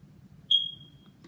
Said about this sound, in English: My fire alarm has been beeping because I think the battery is like low